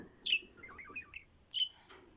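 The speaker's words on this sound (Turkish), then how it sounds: "Çık çık çık çık yapıyor." A small bird gives a few quick, high chirps and warbling tweets nearby, with short pauses between calls.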